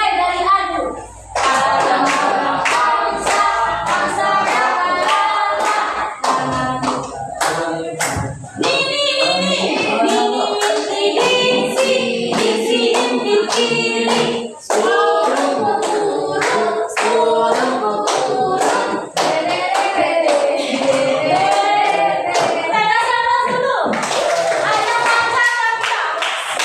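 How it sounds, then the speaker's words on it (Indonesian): Children and adults sing together in a classroom, with hands clapping along through the song, the voices loud and continuous over the steady clapping. "Tepuk tangan semuanya."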